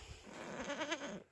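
A village goat gives one short, wavering bleat, close and clear, rising and trembling before fading out.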